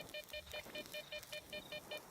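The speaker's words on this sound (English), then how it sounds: "That beeping's getting really annoying." A scanner in a video game gives out a steady run of short electronic beeps at an even, quick rhythm. The beeps are faint and stand alone with no talk over them.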